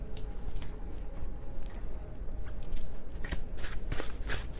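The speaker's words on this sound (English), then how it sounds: "That was a sloppy shuffle." An oversized tarot deck is shuffled by hand close up, a steady papery riffling and flutter of cards with a few sharper slaps toward the end, no voices.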